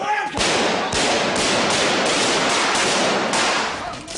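A rapid volley of gunfire rings out in a battle scene from a British TV sitcom: loud, dense, repeated shots crackle almost continuously for around four seconds.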